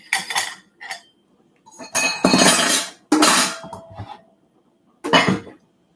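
Dishes and cutlery clatter in a home kitchen, with clinks and scrapes coming in short irregular bursts, loud and close, with quiet gaps between them.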